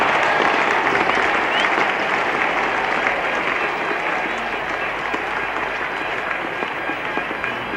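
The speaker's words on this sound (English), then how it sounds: "The crowd here, the West Indian contingent particularly, going wild with excitement." Cricket crowd at Lord's in a 1973 West Indies versus England Test, with West Indian fans going wild after a boundary: dense, continuous loud applause and cheering, steady throughout with a slight fade toward the end.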